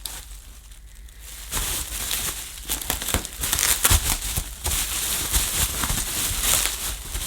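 Unpacking a Miele hard floor head for a Revolution 500 vacuum cleaner, cutting its packaging with scissors: close, steady crinkling and crumpling of wrapping, with quieter handling at first before it grows busier and louder.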